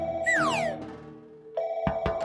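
A phone rings, a bright sweeping electronic tone followed by a steady ringing pattern and a couple of sharp clicks, loud and close with no voices over it.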